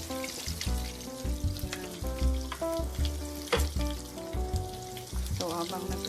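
Pork chop frying in a pan over low heat, a steady close sizzle and crackle that continues throughout, with music playing and a brief spoken word over it.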